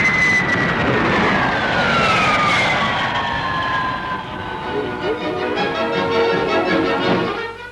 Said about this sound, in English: Still supreme, the world-famous long-range jet airliner de Havilland Comet has a cruising speed of 490 miles an hour.